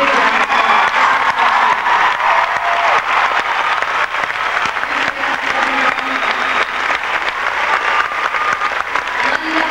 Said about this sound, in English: let's give all the artists who came out today a big round of